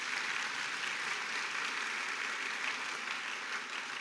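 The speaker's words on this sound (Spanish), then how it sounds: "Y si usted lo cree, dele un fuerte aplauso al Señor por eso." Steady applause from a church congregation, an even, dense patter of many clapping hands at moderate loudness, continuing unbroken without voices.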